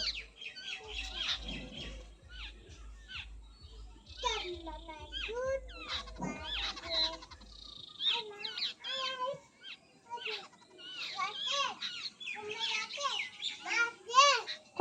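Outdoor birds, sounding like chickens, cluck and call as they play and feed, scattered short calls throughout under frequent talk from a child and an adult, with a soft repeating low thump in the first half.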